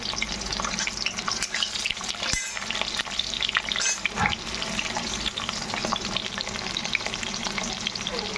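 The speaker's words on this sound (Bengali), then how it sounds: "এবার আমি পটলটা আমি ছেড়ে দেবো পটলটা একটু ভালো করে ভেজে তুলে নেবো" Sliced pointed gourd (potol) fries in salted oil in a pan, a loud, steady, dense sizzle that continues throughout with light stirring noises.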